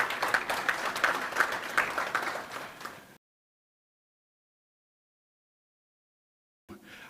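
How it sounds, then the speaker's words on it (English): Applause from an audience at a Caribbean Week opening ceremony in New York, a dense patter of clapping that fades out after about three seconds, then silence before a brief return of sound. "Let's put a round of applause for our sponsors."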